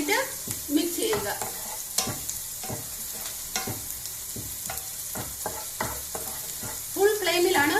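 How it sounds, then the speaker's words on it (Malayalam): Onions and green chillies are stirred in a pan over full flame for vegetable fried rice, with a steady sizzle under repeated scraping strokes of a spatula, close and alone. "ഉള്ളി ഇത് 2 മിനിറ്റ് മിക്സ് ചെയ്യുക."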